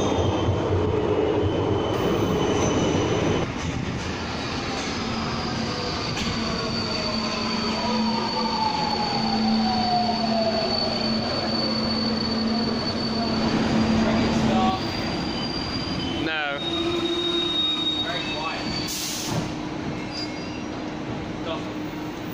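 A passenger train rumbles steadily through a station in Budapest, with long squealing wheel tones and a loud, continuous roar; a brief high whine near the end.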